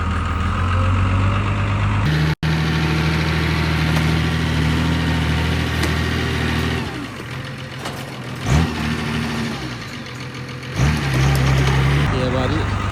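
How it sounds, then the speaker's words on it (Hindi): A tractor engine idles and runs steadily while a trolley is loaded on a farm in Italy, a low continuous rumble with brief dips and surges, close and fairly loud throughout. "इस तरीके से ट्रैक्टर से ट्रॉली भरी जाती है।"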